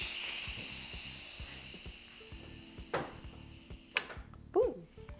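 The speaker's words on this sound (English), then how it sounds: "I'm gonna go ahead and release the steam on this." Steam hisses out of a pressure cooker holding egg bites, a steady loud rush that slowly fades over several seconds, with light clicks and small clatters toward the end.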